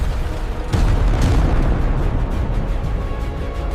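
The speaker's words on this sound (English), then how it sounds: "Entire mountains had to be blasted apart." Blasting explosions break apart mountains for massive dam construction, heavy booming detonations with sharp onsets layered into a continuous loud rumble.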